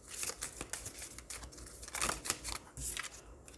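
Tarot cards being shuffled, a rapid series of close, crisp papery riffles and flicks in irregular bursts, with no talking.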